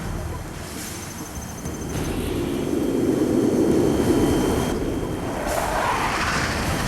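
MiG jet fighters fly in the real-time strategy game Command & Conquer: Generals. A broad rushing jet roar swells through the middle and eases off, with a brighter whoosh near the end.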